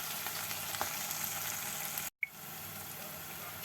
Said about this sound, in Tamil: இப்போ நாங்கள் இந்த உள்ளி வதங்குற வரைக்கும் நாங்கள் கொஞ்சம் வெயிட் பண்ணுவோம்